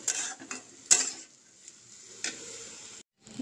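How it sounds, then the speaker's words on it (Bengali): Soaked mung and masoor dal stirred in a pot: scattered scrapes and clinks of a spoon against the metal, with a light sizzle beneath, close and intermittent, one sharp knock near the start, no talk. "এবার ভালো করে নেড়ে নেব।"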